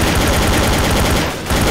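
Rapid automatic gunfire in Garry's Mod, loud and dense bursts of shots in a continuous stream with a brief lull near the end.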